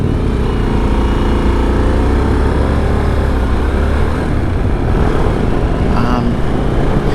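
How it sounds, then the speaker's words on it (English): A 2024 Harley-Davidson Sportster S with the 1250 Revolution Max engine idles loudly and close by, a steady throbbing drone that holds even throughout with a slight rise near the end. "This is the Revolution Max engine, 1250."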